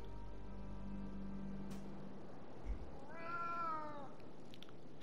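A cat meows in the video game Moonscars, a series of rising and falling wavering cries in the second half, fairly clear over a low hum and steady game ambience.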